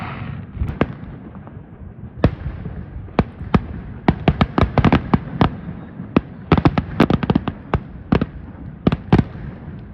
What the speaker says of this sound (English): go see if I can find some fireworks